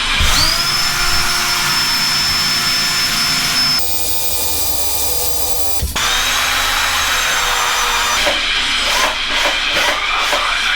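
A power drill whines loudly and steadily while drilling into a wall to install studio monitors, pausing briefly and changing pitch as it bores, with a short gap before starting again.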